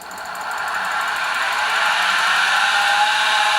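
Titan TM25V CNC mill, converted to CNC, with its spindle spinning up and running steadily, a high whine and hiss that grow slightly louder and then hold even, with no voices.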